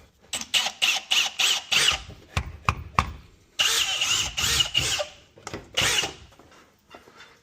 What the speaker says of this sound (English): Let's drill a pilot hole.